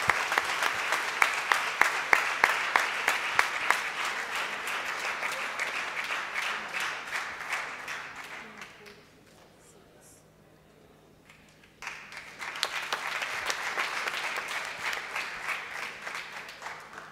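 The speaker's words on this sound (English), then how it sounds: "A louder applause." An audience at a valedictory function bursts into sustained applause, dense clapping that fades out and goes quiet before a second round of clapping swells back up, heard from within the hall.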